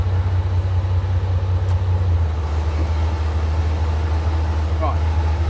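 Loud, steady low idle rumble of a barn-find Leyland Atlantean bus engine as it is put into reverse, constant throughout with a voice briefly over it.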